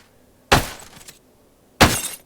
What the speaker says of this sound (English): these are the sounds of when you hit a car